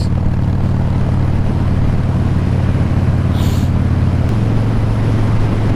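Low, steady engine drone from a 2014 Harley-Davidson Breakout FXSB motorcycle pulling hard in sixth gear on an open road, with strong wind rush throughout and a drop in engine pitch near the end.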